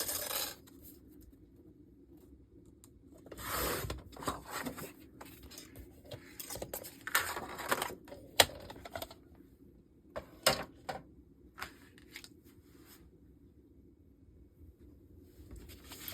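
Paper for a card is cut with a trimmer, giving sharp slicing strokes and clicks in scattered bursts over a quiet room, with long silent gaps between.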